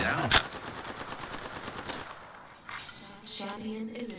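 Rapid bursts of gunfire from a video game shooter, a sharp loud shot followed by dense automatic fire, with game sound effects and voices mixed in.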